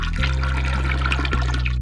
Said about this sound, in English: You flush the toilet.